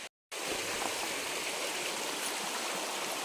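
A stream rushes steadily past, a broad, continuous wash of flowing water at close range after a brief silent gap at the start.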